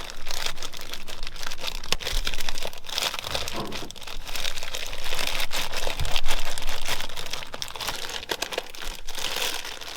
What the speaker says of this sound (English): I put a plastic bag around it like that as I spin the rest.